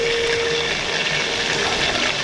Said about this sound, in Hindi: दोस्तों देखो हमने फ्राई फिर शुरू कर दिया इसको।